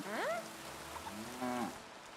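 A cow in the video game Kingdom Come 2 lets out two long, drawn-out moos, the first rising and the second lower, over a steady patter of rain.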